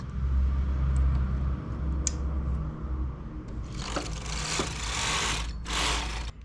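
A knitting machine works a simple collar in a dotted stitch with separation yarn. Its mechanical whir and hum run steadily, then brighter rasping carriage passes sweep across in the second half, with no talk.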